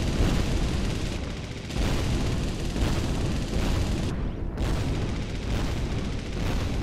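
Missile explosions in the tower-defense game Kittypocalypse, heard as a sustained, loud, broadband rumble of booms and blasts that rolls on continuously with brief dips between impacts, no voices over it.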